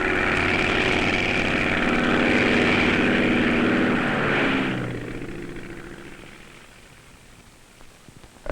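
A propeller airplane's engine roars loudly and steadily, then the sound drops away and fades into the distance as the aircraft takes off, with a faint thump at the very end.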